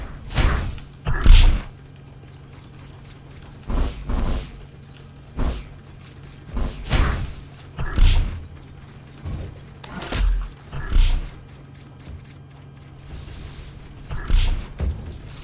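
Missile launches in the space shooter Descent Underground, a series of irregular whooshing thumps, some loud and close, spaced a second or two apart with quieter gaps between.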